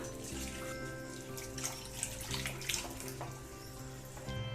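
Water left from boiling lentils pours steadily into a pot of dal tadka, a continuous splashing trickle with a few brief louder bursts, close by and without talk.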